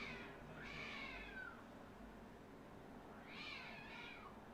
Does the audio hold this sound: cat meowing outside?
yes